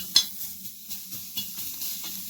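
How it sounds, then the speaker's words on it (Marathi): Onion and coconut roast in a pan in a home kitchen, with a soft sizzle broken by a sharp metal clink and a few scraping stirs, fairly quiet and with no talking. "आता मी एक कांदा आणि खोबरं भाजून घेतोय."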